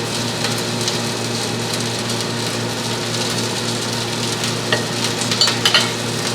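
A beef patty sizzles in a pan, a steady close frying hiss with a faint hum underneath and a few brief clinks or scrapes near the end.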